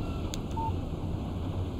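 In Alan Wake Remastered, a phone text message alert chirps briefly, a short electronic beep followed by a fainter echo over a steady game ambience.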